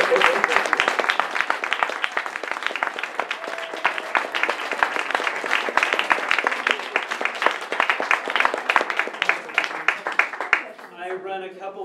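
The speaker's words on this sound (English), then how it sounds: "one more round of applause for" Audience at a poetry reading in a library breaks into sustained applause, dense clapping lasting about ten seconds before fading as a voice begins speaking.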